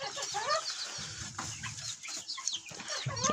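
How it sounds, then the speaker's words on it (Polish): Crested hens and a white rooster cluck and call close by in a poultry pen, with overlapping bird voices and a burst of low wing flapping mid-clip. "ten kogucik jest bardzo ładny, ten biały"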